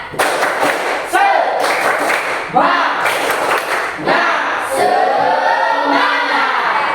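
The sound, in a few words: class doing the tepuk semangat clapping routine again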